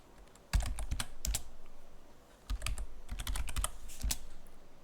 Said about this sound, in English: And I'm going to put in my super secure password.